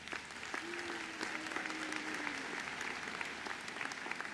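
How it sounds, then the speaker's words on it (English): Audience at the 2024 Joliet Junior College commencement ceremony applauding faculty honorees, a sustained crowd clapping in a large hall, steady and moderately loud throughout, with faint voices underneath. "Let's give them a round of applause."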